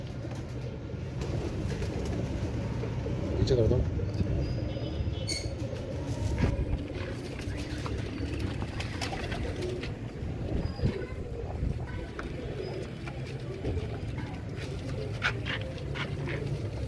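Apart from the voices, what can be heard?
pigeons cooing in a loft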